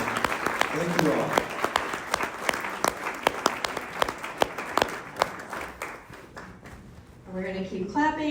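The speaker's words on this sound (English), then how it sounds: "give a big round of applause to Representative Olson, Representative Kozlowski, and Senator Cruz for being here tonight" Steady applause from an audience at a climate town hall in Duluth, Minnesota, with sharp individual claps. Near the end it fades and a voice speaks.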